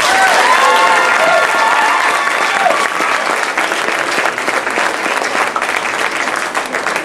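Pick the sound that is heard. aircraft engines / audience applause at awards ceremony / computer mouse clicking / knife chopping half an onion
audience applause at awards ceremony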